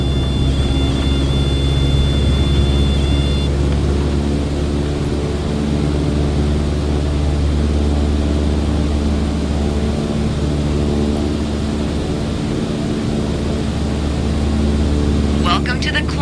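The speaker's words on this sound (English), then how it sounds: "go full throttle and start climbing" Single-propeller aircraft engine held at full throttle during a climb in Microsoft Flight Simulator, a steady loud drone with a constant low hum running the whole way through.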